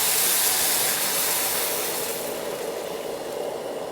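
Hot water poured into a pan of rice sets off a loud, broad steamy hiss that is strongest at first and then eases to a softer, steady rush.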